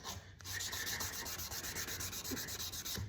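Hand sanding of a Damascus knife handle with 600 grit sandpaper: fast, steady back-and-forth rubbing strokes, close and continuous, with no voices.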